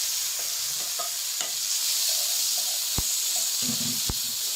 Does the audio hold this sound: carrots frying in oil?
yes